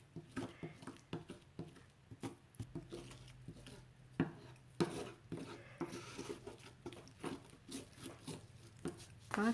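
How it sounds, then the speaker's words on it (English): Venetian lime plaster being stirred and mixed by hand, with repeated soft scraping and patting strokes in an irregular rhythm, close and fairly quiet, with no talking. "Takes a while to get it mixed up, and I may want to add a little bit more plaster again so it doesn't get too stiff."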